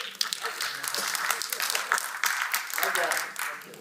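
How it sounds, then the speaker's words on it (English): Audience applause at an industry leadership panel: a steady, fairly loud wash of many hands clapping throughout, with some voices mixed in. "Yeah, applause, but no laughter."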